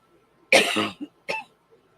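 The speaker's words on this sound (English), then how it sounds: "I have this real light cough all of a sudden." Two harsh coughs close to the mic, the first longer with a brief rasp after it, separated by a short pause in an otherwise quiet room.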